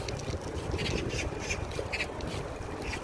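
Birds call near a small stream along a spring bike ride through a neighbourhood, scattered quacking and squawking calls over a steady rushing background of wind and rolling noise.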